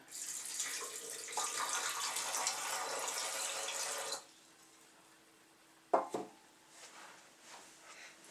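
Tap water pours steadily into an Aquaphor filter jug for about four seconds, then stops, followed by a single light knock or clatter and faint room quiet.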